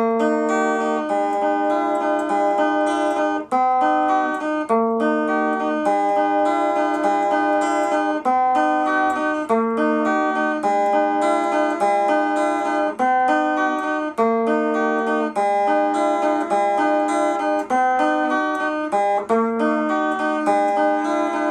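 Guitar playing a repeating riff, bright picked notes in a quick, steady, looping pattern, close and clear for about twenty seconds with no talking.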